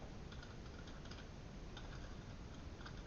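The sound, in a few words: typing coordinates on a computer keyboard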